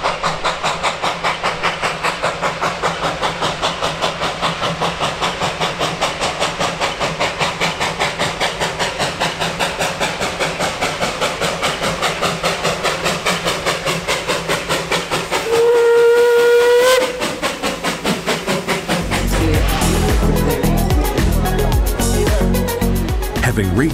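Puffing Billy steam locomotive 12A works up a grade with loud, rapid rhythmic exhaust beats and clanking, then a long steam whistle blast rises above it, followed by heavier rumbling and chuffing.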